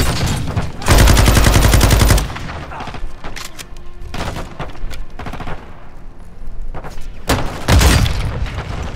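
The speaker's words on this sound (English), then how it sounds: "So many nades" Bursts of explosions and gunfire in Call of Duty Modern Warfare 2 on PC, with heavy booming blasts around the start and end over a continuous loud battle din, no talk.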